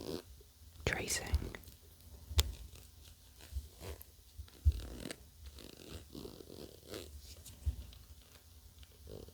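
Faint, close zipper scratches and clicks as a gold zip is traced along, with quiet whispering over the top.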